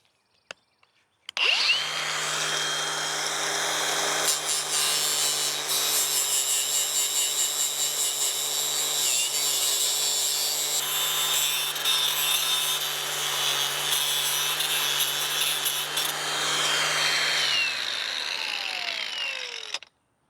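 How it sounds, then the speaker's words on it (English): A power tool grinds rust, paint and dirt off a convertible top frame's metal bows down to bare metal, starting abruptly and running as a loud, steady abrasive whir near the mic for about eighteen seconds before cutting off, with no talk. "what I did here was I got rid of all that rust and paint and dirt, and we got down to bare metal"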